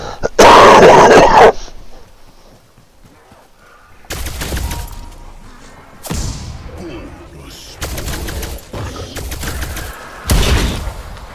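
Bursts of automatic gunfire from a sentry turret in Call of Duty Cold War, several loud sharp volleys spread across the moment, the first the most intense, with rumbling combat noise between.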